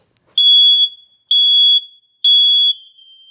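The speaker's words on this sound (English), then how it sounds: "Then we have your smoke detectors. You're gonna come over here and you're gonna hit this button." Building smoke detector set off with its test button, giving three loud, piercing electronic beeps of about half a second each, evenly spaced, with silence between them.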